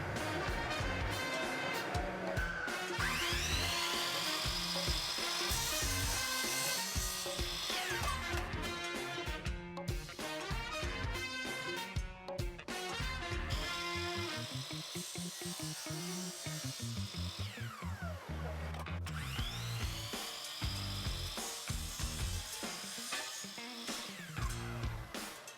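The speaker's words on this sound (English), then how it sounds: "use the miter saw to cut them to their lengths" A miter saw cuts wooden dowels for a picture frame, with repeated loud whining passes of the blade spinning up and biting through wood, separated by short pauses.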